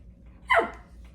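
A dog gives one short, sharp bark at moderate distance, a single quick burst standing out against a quiet indoor background with no talking.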